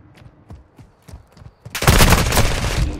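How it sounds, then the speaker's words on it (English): Call of Duty: Modern Warfare II gunfire: a few soft, scattered taps and steps, then a sudden loud, sustained burst of rapid automatic fire that runs to the end. "Taking effective fire!"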